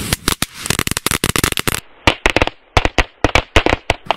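A short length of PL-1 firecracker belt, styled after a machine-gun belt, goes off outdoors in a loud, rapid chain of sharp cracks that bursts quickly and then thins into scattered pops.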